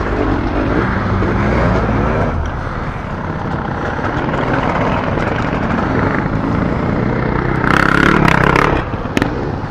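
A BMW 1200 motorcycle powers up a steep off-road ascent, its engine a loud, continuous roar close by that holds strong throughout, with a brief surge near the end and no talking.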